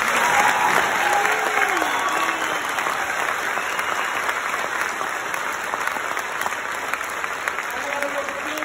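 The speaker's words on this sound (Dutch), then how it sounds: "applaus vragen voor iedereen die hier nu niet staat, voor het orkest, voor alle leerkrachten" An audience at a school production of The Wizard of Oz in Beringen applauds steadily and loudly throughout, a dense wash of clapping with a few faint voices and calls mixed in.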